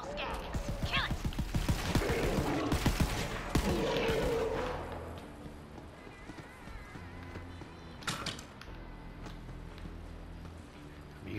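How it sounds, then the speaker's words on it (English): Rapid assault rifle fire in Borderlands 3, with dense repeated shots for the first several seconds, then fading into a rumbling game ambience with an isolated louder burst later on, mixed with game effects. "I'm using up some ammo pretty fast here with two assault rifles."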